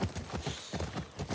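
Horse hooves clip-clopping in The Last of Us Part II, a steady close rhythm of about four hoof strikes per second, loud and unaccompanied by talk.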